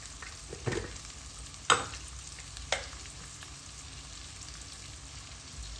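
Ground cumin, turmeric and other spice powders fry in a pan for a cabbage, carrot and mango roast, a quiet continuous sizzle broken by a few sharp scrapes and clinks of stirring.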